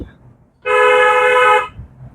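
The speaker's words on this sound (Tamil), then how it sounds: "ஹார்ன் அடி" A single loud car horn blast lasting about a second, close and sharp, with quiet engine rumble before and after.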